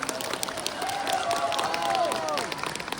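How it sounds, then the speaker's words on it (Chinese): An audience at a Guangdong lion dance performance claps and cheers for the performers, a dense, sustained burst of applause from a crowd, with a voice briefly audible over it. "我们再次把热烈掌声送给我们各位的演员老师"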